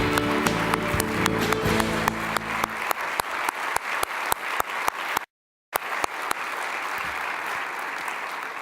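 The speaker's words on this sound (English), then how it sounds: "Please give him a big round of applause." Audience applauds at a Kennedy Forum event on mental health, a steady broadband wash of clapping with a strong low hum early on, a brief dropout near the end, then clapping continuing.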